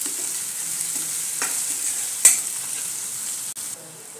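Chopped onion frying in a pan while being stirred, a steady bright sizzle with a couple of sharp utensil clinks against the pan, close and with no talking.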